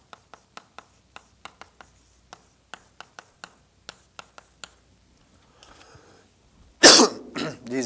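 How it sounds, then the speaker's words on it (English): A single harsh cough near the end, after a run of light tapping and scratching strokes like a pen on a board. "I still have this little allergic cough following me."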